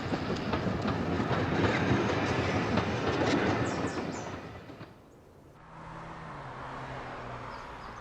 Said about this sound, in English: passenger trains rattle and roll in and out of the station